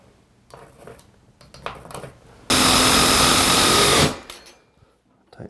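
A bathroom grab bar fitting being tightened with a power driver: scattered small taps and clicks, then one loud, steady whirring burst of about a second and a half, close up, with no talk.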